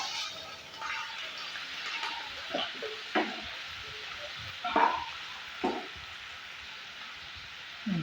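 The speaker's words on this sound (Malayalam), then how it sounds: "ഞാൻ അടുത്ത ഉള്ളി ഈ എണ്ണയിലേക്ക് ഇട്ട് കൊടുത്ത് വഴറ്റാം." Onions sautéing in hot oil for a prawn dish, a soft steady sizzle with several light scrapes and taps of a spoon against the pan, moderately close.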